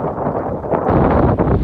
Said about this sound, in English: It's quite windy, by the way.